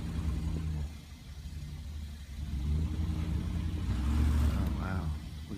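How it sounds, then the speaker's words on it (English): A car's tires skid and spin in deep blizzard snow as the engine revs and strains, with a rising whine near the end, under people talking. "Look at this skidding."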